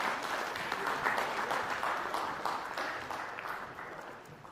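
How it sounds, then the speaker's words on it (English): An audience at an entrepreneurship conclave applauds a speaker as he is called to the stage, a dense, even patter of many hands heard from a distance that slowly fades over several seconds. "A big round of applause for Mr."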